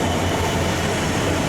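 A Class 66 diesel locomotive with a giant two-stroke engine roars loud and close, a dense continuous rumble with rhythmic rail clatter, no voices.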